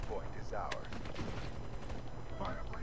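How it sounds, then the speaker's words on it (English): The BRECCI shotgun fires during a Call of Duty Black Ops 3 multiplayer match, with several heavy blasts and scattered distant gunfire mixed in, while voices talk faintly over the action. "Look at the range of this Brecci, dude."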